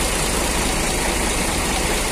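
A Hino RK8 R260 bus engine on a Hino RK chassis with a Laksana SR1 body idles with a loud, steady, low rumble that holds unchanged with no voices.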